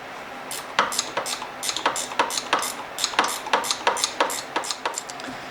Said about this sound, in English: The ratcheting wrench is nice for this too.